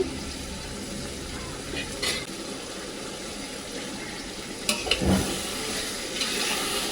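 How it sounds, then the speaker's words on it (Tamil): Ingredients for Ambur mutton biryani fry in hot oil with a continuous close sizzle, broken by a few scraping stirs against the pan. "கொஞ்சம் அப்படியே அந்த எண்ணெயிலே வேகட்டோங்க."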